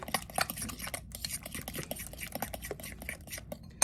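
A whisk or spoon stirs batter with an egg in a bowl, producing a quick, irregular run of scraping and tapping strokes against the bowl, close up and fairly quiet, with no one speaking.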